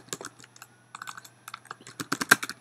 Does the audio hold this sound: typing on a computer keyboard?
yes